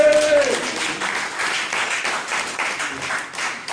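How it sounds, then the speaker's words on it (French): A crowd applauds at a political rally during a 2017 legislative election campaign event, a continuous, moderately loud spatter of clapping after a speaker's call, with a brief tone at the start. "Applaudissez!"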